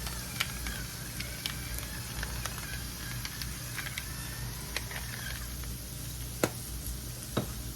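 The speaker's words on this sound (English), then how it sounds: "We're gonna fry these up and we'll be back" Homemade hashbrowns fry in a pan with a continuous crackling sizzle, scattered sharp pops and spits rising over a low steady hiss, fairly close and alone.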